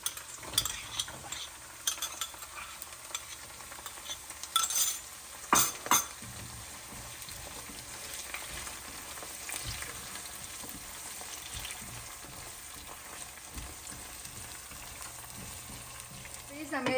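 Ginger, chili and garlic fry in a pan for lemon pickle, making a continuous soft sizzle broken by occasional stirring scrapes and utensil clinks, with no talking.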